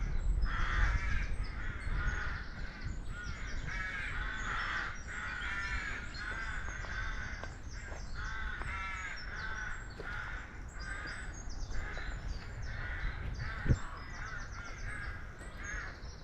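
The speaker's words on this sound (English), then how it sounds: "I hope you're picking up all that bird song." Birds call repeatedly and steadily at moderate distance on the Isle of Wight, with harsh caw-like notes and a few chirps that carry on throughout without any voices.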